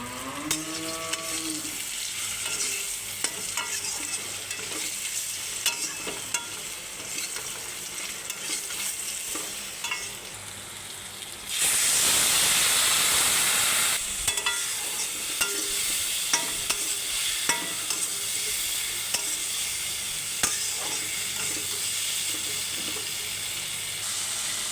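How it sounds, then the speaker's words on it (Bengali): Turmeric, chilli and coriander powder frying in a pan for a hilsa fish curry, a steady sizzle with scraping stirs, broken midway by a loud hissing burst that then settles back into frying. "ভালো করে ভেজে এর মধ্যে হলুদ গুঁড়া, লঙ্কা গুঁড়া ও ধনিয়া গুঁড়া দিয়ে ভালো করে কষিয়ে নেব"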